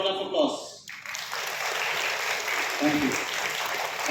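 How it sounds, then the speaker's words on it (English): An audience gives a round of applause at an award showcase, with sustained clapping that stays fairly even for several seconds after a brief voice at the start. "One more time, a round of applause."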